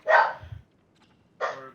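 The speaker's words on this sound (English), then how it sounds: "Sorry about the dog. So sorry." A dog gives two sharp, close barks separated by about a second of near silence, each bark loud and short, indoors.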